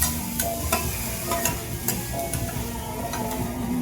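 Pad thai sizzling and being stir-fried in a hot wok, with scraping strokes of a spatula at an uneven rhythm.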